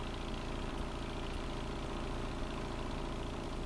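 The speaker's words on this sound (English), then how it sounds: "Both the pump and auger are powered by a gasoline engine" A gasoline engine drives the pump and auger on a crack and road repair unit, running at a steady, close idle with a continuous low rumble and an even, unchanging drone throughout.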